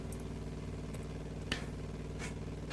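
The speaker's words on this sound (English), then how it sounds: "I think I can turn this engine sound up a little bit here, can't I?" Piper J-3 Cub engine in a flight simulator game, a steady mid-pitched drone with a harmonic hum that holds at an even level throughout, with a few faint clicks over it.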